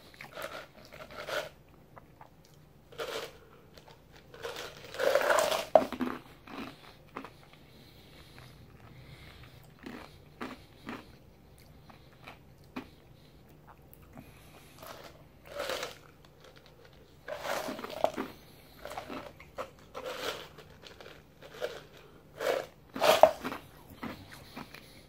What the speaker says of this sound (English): It's dry, so I'll chew some ice,